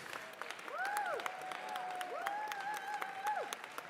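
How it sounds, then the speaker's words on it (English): An audience at the National Cherry Blossom Festival artwork reveal in DC claps steadily, with rising and falling whistles cutting through the applause. "How about a round of applause one more time,"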